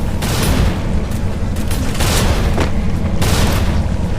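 Loud, continuous booming blasts from a bomb in a Free Fire battle royale match, a dense rumbling barrage of explosions with sharper bursts layered on top, filling the whole stretch.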